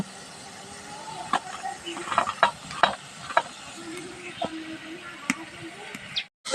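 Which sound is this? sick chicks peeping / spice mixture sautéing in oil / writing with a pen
spice mixture sautéing in oil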